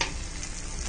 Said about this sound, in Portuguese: Tô mexendo a massa.